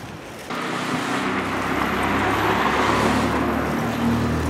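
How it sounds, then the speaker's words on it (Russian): Fancy cars drive along a street in China, a loud, steady roar of passing traffic that swells suddenly and stays close throughout. "Ребята, тут тачки модные гоняют."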